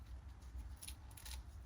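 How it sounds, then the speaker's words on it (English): Scissors trim flash from a PU foam cast of a goblin troll, with two quick crisp snips close by over a low background hum. "the best way to remove this flash is going to be scissors"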